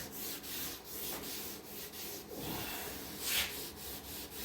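A cloth rubbing wood stain into a wooden fireplace mantel, making a steady close scrubbing swish in repeated strokes, with a brighter, harsher pass near the end and no talking.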